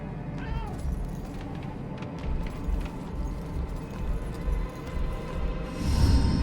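A cat meows in the video game Murdered: Soul Suspect, with a few clear, drawn-out calls over a steady background rumble of game ambience.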